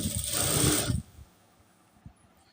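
A sewing machine runs a quick burst of stitching along a folded kurti hem, whirring steadily for about a second before stopping, leaving a quiet room with faint handling clicks.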